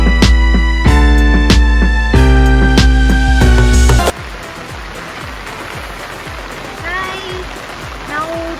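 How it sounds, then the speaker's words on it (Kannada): Heavy rain falls at Thirthahalli near Kavaledurga Fort, a dense, hissing wash that follows a few seconds of loud music, with occasional faint tones over the steady downpour. "ಇದು ತುಂಬ ಜೋರಾಗಿ ಮಳೆ ಬರ್ತಾ ಇದೆ"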